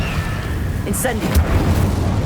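An Incendio fire spell cast in Hogwarts Legacy bursts out as a short whooshing blast about a second in, over loud low-end game rumble, with a voice shouting over it.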